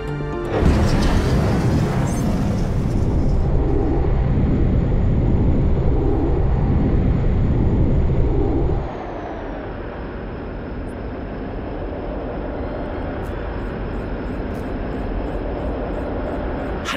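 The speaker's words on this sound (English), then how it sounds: "Maneuvering thrusters should be more responsive now." Spaceship maneuvering thrusters in X-Rebirth, a loud roaring engine rush with a slowly wavering pulse that cuts down to a quieter steady hum halfway through, close and continuous, no voices.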